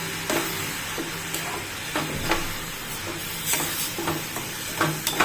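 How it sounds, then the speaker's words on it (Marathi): Milk being stirred into a mango and coconut mixture in a pan for mango coconut vadi, giving soft scraping strokes and a faint sizzle that repeat at an irregular pace, close by, with no voices. "त्यामध्ये दूध घालायचं आपल्याला 1 वाटी। छान परतवून घ्यायचं आता हे।"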